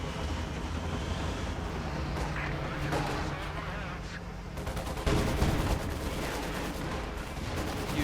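Gunfire and explosions from a Company of Heroes 2 1v1 battle with tanks and panzerfausts come as dense bursts and volleys over rumbling battlefield noise, with a heavier blast midway, under continuous commentary.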